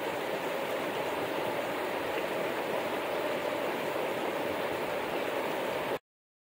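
A mountain creek in Fairplay, Colorado, where a gold sluice box sits in the current, flowing as a steady close rushing wash of water with no voices, cutting off abruptly.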